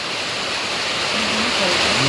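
Heavy rain pours down in a dense, constant hiss close by, loud and unbroken, with a faint voice-like tone murmuring beneath it.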